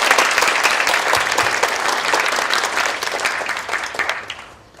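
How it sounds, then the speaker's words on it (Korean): Sustained applause from a large audience at a lecture, dense and steady, fading toward the end. "자, 큰 박수 부탁드리겠습니다."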